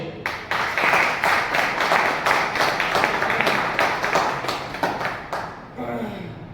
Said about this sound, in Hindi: तो आप सब ग्राउंड लीडर क्लोज के बीच तालियों पर गड़गड़ाहट के साथ वेलकम करेंगे ग्रेट लीडर मिस्टर विजय गौतम जी।